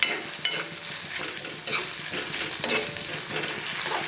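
Steady, loud sizzling of onions frying in hot oil with whole cumin seeds, with occasional stirring scrapes and clinks; no one speaks.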